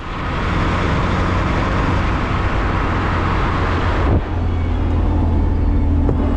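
Constant broadband road and engine rumble from inside a Datsun 620 pickup driving on roads in Laos, loud and steady with wind noise, a brief dip midway as if shifting gear, no talking.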